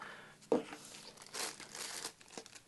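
Crinkling plastic bag rustles in short bursts while unboxing a Spyderco Paramilitary 2 knife, a sharp crackle near the start followed by softer crumpling, close and fairly quiet.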